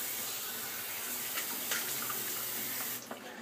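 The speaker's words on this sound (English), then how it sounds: "you get your face wet." Water running steadily from a bathroom tap into a sink while the face is wetted before a wet shave, a constant close splashing hiss that cuts off near the end.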